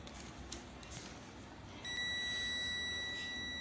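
A multimeter gives a steady continuity beep while testing a microwave oven's main fuse: a loud, sustained electronic tone that starts partway through and holds to the end after faint handling noise.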